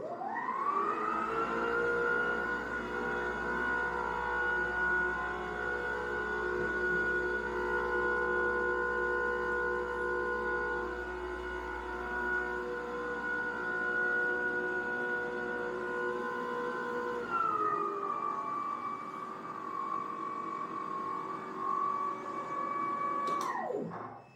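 A Toro Power Max 60V battery two-stage snow blower runs indoors in an empty, echoey room, giving a loud, steady electric whine over a low rumble. The pitch dips slightly near the end before it shuts off.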